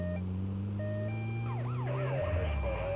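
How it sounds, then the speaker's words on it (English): Police siren in the video game GTA Vice City, a wailing, sweeping electronic tone over a steady engine drone, loud and close throughout. "if you hold it, it does the actual police siren too"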